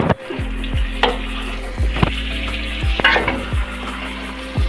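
A steam-roasted mutton leg, soft and well browned, is turned in a frying pan, a continuous close sizzle with several sharp scraping knocks as it is shifted and flipped.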